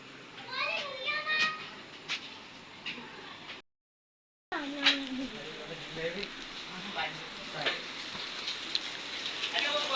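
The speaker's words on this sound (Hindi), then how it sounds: "मेरे को इतनी खुशी हो रही बारिश आई तो।" Rain pattering on surfaces after a long-awaited monsoon shower in India, a soft, continuous crackle with children chattering and voices nearby, interrupted by a brief silent gap.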